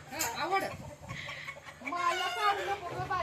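Chickens clucking close by, several short throaty calls in a row, with a person's voice mixed in.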